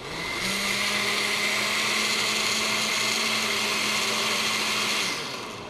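A blender whirs steadily as it mixes a cold drink, a loud, even motor drone that starts abruptly, holds constant for about five seconds, then cuts off.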